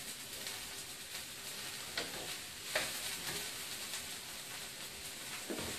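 Mushrooms and black beans fry in oil in a pan with a steady, quiet sizzle and a few soft pops and stirring clicks.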